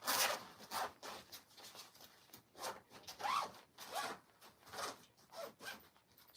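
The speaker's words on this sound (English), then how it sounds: "Very compact, and they zip up very easily." A packing bag of shirts and pyjamas being zipped shut, giving a run of quick rasping zip strokes in a steady rhythm, close and moderately loud with no talk.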